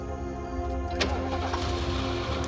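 A car engine starts and settles into a steady mid-pitched running hum, with a sharp click partway through, fairly close and with no voices.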